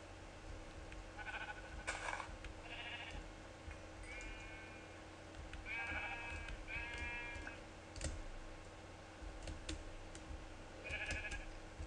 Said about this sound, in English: I'm gonna go kill off some sheeps.